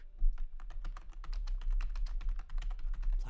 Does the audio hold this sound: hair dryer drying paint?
no